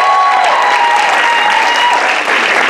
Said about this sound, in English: So let's give everybody a round of applause real quick.